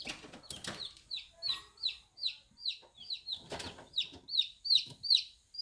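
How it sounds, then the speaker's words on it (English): A baby chick in an incubator chirps in a steady run of high, sharp peeps, about two per second, fairly close, with faint rustling and a brief voice in the background. "He's chirping because he doesn't like it."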